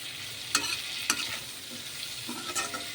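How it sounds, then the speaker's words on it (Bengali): Raw turmeric paste fries in a pan while a spoon stirs it, giving a soft steady sizzle with three sharp scraping strokes close by. "এইটা একটুখানি ভাজা হবে"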